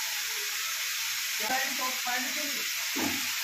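Banana flower fried in a pan with eggplant and boiled potato gives off a steady, even sizzle, broken by a few soft stirring scrapes and knocks.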